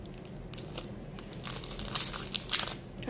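Crinkly plastic wrapper of a trading card booster pack is crumpled and torn open up close, a run of sharp rustling rips growing louder toward the end.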